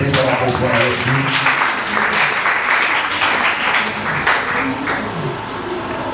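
A church congregation at a Sunday service applauds with dense, continuous clapping for several seconds, while a voice talks loudly over the applause.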